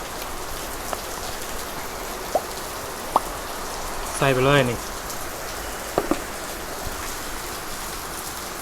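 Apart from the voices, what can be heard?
rain falling during an outdoor grill picnic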